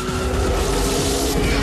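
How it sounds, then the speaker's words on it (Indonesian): Tires skid loudly as a racing motorbike chases a truck carrying dangerous chemicals in the 1997 film Spawn, a dense, continuous roar of engine and screeching rubber that cuts off abruptly at the end. "Simon kemudian mengendarai motor balap menuju rumahnya Wanda yang ternyata berhasil menyusul mobil truknya Om Badut berisikan cairan kimia yang berbahaya."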